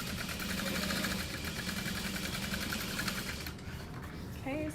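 A sewing machine runs steadily, stitching a Noel handbag made from an iThinkSew pattern, with a continuous mechanical whir and rapid needle rhythm that slows and stops near the end.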